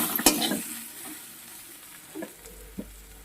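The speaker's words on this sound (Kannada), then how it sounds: "ಈ ಥರ ಹುರ್ಕೋಬೇಕು ಹಸಿರೆಲ್ಲ ಹೋದಾಗೋ" Green tomatoes sizzle as they roast in a pan for chutney, with a scrape of stirring near the start and soft, steady frying crackle afterward.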